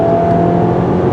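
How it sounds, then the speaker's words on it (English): A 2022 Subaru Outback Wilderness engine with a CVT gearbox accelerates, heard as a steady, loud droning hum from inside the cabin without any break. "I'm really impressed with this engine. It's got a lot of guts."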